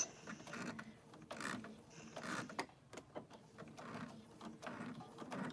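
A mechanical, rhythmic clattering and whirring like a sewing machine running, with repeated bursts of stitching and brief pauses, fairly close and steady.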